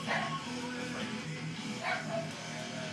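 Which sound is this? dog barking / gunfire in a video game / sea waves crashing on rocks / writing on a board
dog barking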